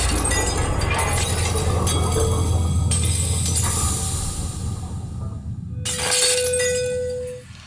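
A glass shatters from resonance, a sharp burst of breaking and tinkling fragments over a sustained droning tone, followed by a second bright crash near the end.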